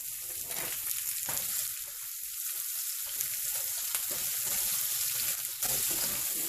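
Onions hitting hot oil with cumin seeds in a pan for an ivy gourd (tindora) stir-fry, a steady broad sizzle that stays loud and close for the whole stretch with no talking.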